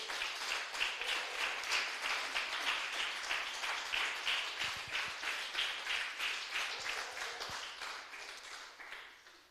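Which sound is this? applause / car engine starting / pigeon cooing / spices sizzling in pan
applause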